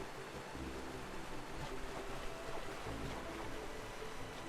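Waterfall in the video game Owlboy, a steady broadband rushing wash of falling water, constant and fairly faint, with no voices.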